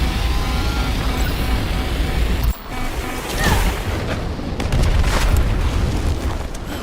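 A pilot ejects from a damaged aircraft with a destroyed windshield in Bright Memory: Infinite, heard as a loud, sustained rushing roar and rumble, broken by a sudden cut before a burst of blasting wind and booms.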